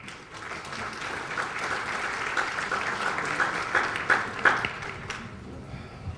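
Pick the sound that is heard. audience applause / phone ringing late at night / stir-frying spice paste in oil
audience applause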